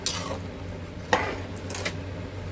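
A spoon stirring paneer pulao in a metal pot, a few scraping clinks and one sharp knock against the pot over a soft sizzle, heard up close.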